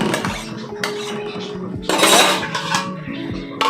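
A spoon stirs cabbage in a pan for a Bengali bhorta, making repeated close metallic scrapes and clinks against the pan, with a louder, busier burst of scraping partway through.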